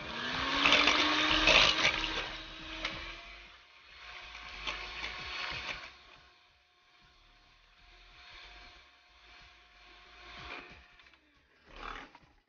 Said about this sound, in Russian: Яйца с сахаром взбиваем в пышную и воздушную массу до полного растворения сахара